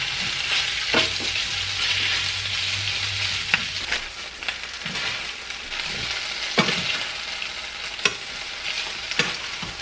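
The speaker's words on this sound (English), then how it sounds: "we're just going to stir fry this until it is done" Beef and cauliflower rice stir-frying in a hot pan, a close, continuous sizzle broken by scraping stirs and occasional clanks of a utensil at irregular intervals.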